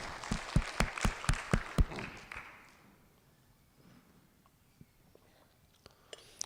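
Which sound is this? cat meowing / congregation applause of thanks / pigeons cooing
congregation applause of thanks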